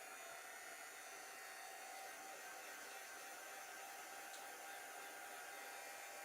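Hair dryer blowing to dry glue on a chalk craft project, a continuous even hiss of rushing air held steady throughout, close and unbroken with no speech.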